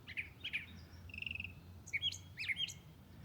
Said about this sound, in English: I'm wondering if a bird up here, is that a mockingbird?